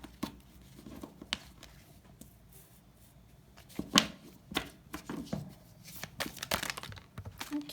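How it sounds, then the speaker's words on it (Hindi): A deck of tarot cards being shuffled by hand, with irregular riffling and soft slapping bursts, one sharper snap near the middle, close and fairly quiet with no talking. "तो फिर से शफल करेंगे हम।"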